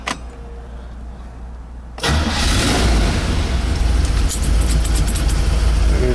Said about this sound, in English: And we'll go ahead and get it started.